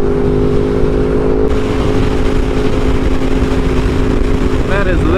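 A Yamaha R1 motorcycle engine roars loud and steady while riding through canyon roads, with a rider talking over the constant drone throughout.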